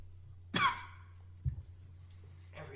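A man coughs after a sip of Scotch whisky: one sharp cough, then a shorter, lower throat-clearing sound and a faint breath, all close and quiet.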